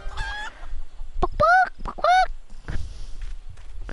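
Chickens in the Final Fantasy XIV video game squawk and cluck in sharp, loud honking bursts, several calls in quick succession, close and prominent with little else around them.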